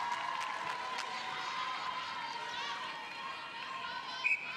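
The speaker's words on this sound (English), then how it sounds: "Fanatical support now cheering Brunei on" Spectators at a Southeast Asian Games netball match between the Philippines and Brunei, a steady distant crowd roar of cheering with a commentator talking over it.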